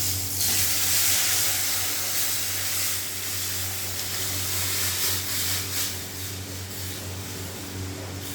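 Dal hitting a hot pan gives a loud, broad hiss of sizzling and steam that settles into a steady fry over several seconds.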